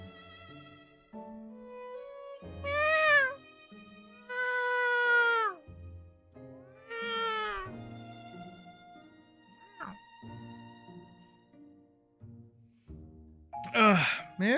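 A person imitating cat meows, several drawn-out, wailing mews in a row with short gaps, some rising and falling like a caterwaul, ending in a sharper high cry.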